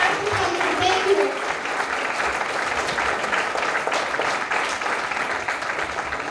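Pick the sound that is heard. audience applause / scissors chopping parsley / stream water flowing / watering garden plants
audience applause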